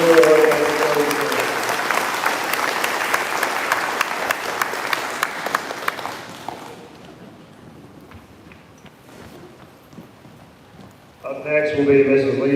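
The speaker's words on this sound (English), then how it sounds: "Another round of applause for these students for achieving middle school awards" Loud crowd applause for middle school award students at an 8th grade promotion ceremony fills the first half, then fades into a quieter hall before a voice begins speaking near the end.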